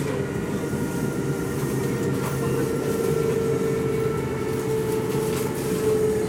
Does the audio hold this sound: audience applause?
no